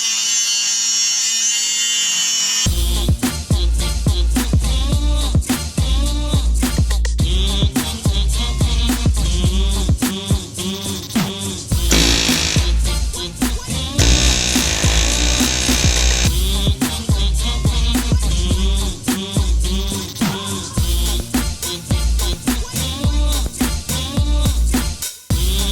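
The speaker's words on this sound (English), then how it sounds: "Now I just need to grind these 4 rivets out, pop the heads of those off" Power grinder cutting the heads off rivets on the frame of a 1995 Ford F150 4x4, loud, harsh sustained grinding with repeated surges and brief dips, close up and continuous for over twenty seconds.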